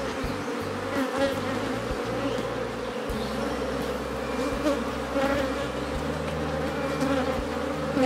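A caught swarm of honeybees buzzes inside a hive, a dense steady hum close by with individual bees droning past now and then.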